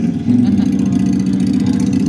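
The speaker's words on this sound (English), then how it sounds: "Come on, rev it up." A loud, steady engine on a theme park ride keeps a continuous low drone for about two seconds, with a brief louder push near the start and no pause in the sound.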